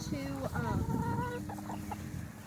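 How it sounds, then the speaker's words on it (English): Hens clucking and cackling close by on a farm, with a rooster's call mixed into the flock's chatter. "We have 4 roosters, and the rest of them are hens."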